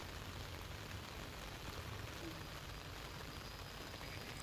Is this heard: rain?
yes